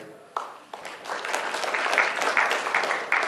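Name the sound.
audience applause for companies at an award ceremony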